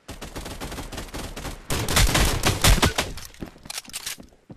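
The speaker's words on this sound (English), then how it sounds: "You're using a shotgun." Shotgun fire in a video game comes in a dense run of sharp, close blasts, growing louder in the middle before thinning out to scattered shots at the end.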